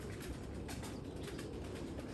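A pigeon coos softly after landing during a Turkish pigeon flight, the cooing faint and low against a steady broadband wash of outdoor noise with no voices.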